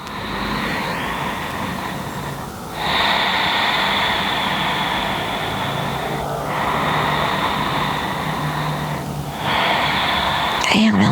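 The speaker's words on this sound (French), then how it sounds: "encore 2 respirations profondes." Slow deep breathing during a gentle yoga exercise, with long drawn inhales and exhales at an even pace, close and steady over a soft background hum.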